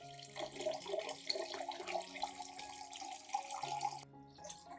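About 1.5 liters of clean water runs and trickles steadily into a container to dilute a solution, with light splashing and clinking from stirring throughout before cutting off near the end.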